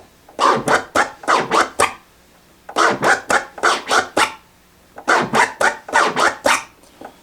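Slow DJ boomerang scratch on a turntable in three rounds of about six rhythmic, vocal-like swipes each, separated by short pauses, close and clear with no music.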